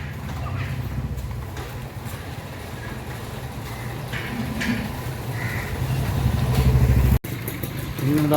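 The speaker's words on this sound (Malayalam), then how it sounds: "ടൂ വീലർ വണ്ടി" Two-wheelers rumble past on a street in Pondicherry, engine noise building louder toward the end, with faint birds calling in the background.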